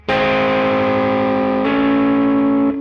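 Slide guitar in open E tuning sustains a distorted flat-seventh chord with rich harmonics, let ring loud and alone, shifting slightly partway through before fading at the end.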